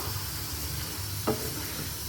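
Crab curry masala sizzles in a pan, a steady close frying hiss with a single scrape of stirring partway through, no talking.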